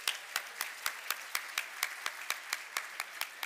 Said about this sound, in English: Okay, one more time, a round of applause for all of our award winners.